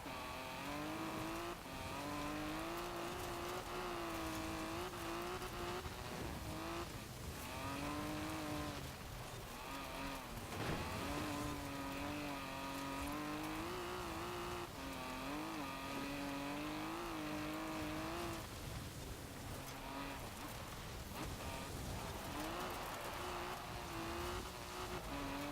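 A 1958 MG MGA Twin-Cam is driven at speed in Forza Horizon 4, drifting as it goes. Its engine drones steadily and its pitch wavers as the revs rise and fall. The sound stays loud and continuous throughout.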